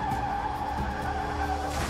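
A car braking hard with tires skidding and squealing, a sustained screech with engine noise underneath, loud and continuous for about two seconds with no talk.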